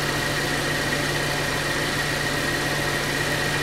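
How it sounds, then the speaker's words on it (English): A Subaru Crosstrek engine idles steadily during a transmission fluid change, giving a constant, even hum with a low droning tone and no talking. "You see, the engine is on, it's sucking all this fluid."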